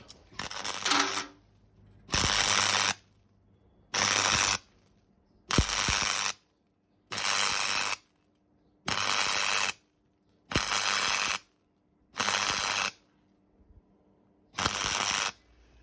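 Bolts being tightened with a ratchet on a Land Rover chassis rail bracket near the front dumb irons: eight or nine evenly spaced bursts of rapid clicking, each about a second long, separated by silence, close and loud.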